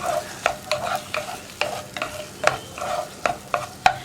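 Sago heated in a pan for semiya payasam is stirred in a regular rhythm, each spoon stroke a distinct scrape over a soft, low sizzle, close and fairly quiet.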